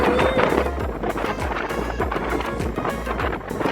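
NYC Ferry boat pulling away across New York City waters, a steady loud engine and water rumble with rushing wind buffeting the microphone throughout.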